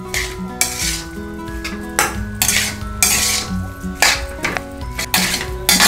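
A spoon stirs and scrapes a potato filling with salt and coriander in a metal pan, producing repeated clinks and scrapes in an irregular rhythm, close and fairly loud, with no voices.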